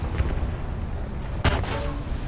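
A single heavy cannon shot from an FV4005 tank booms abruptly in War Thunder, rising sharply out of the low battle rumble before fading into a rolling tail.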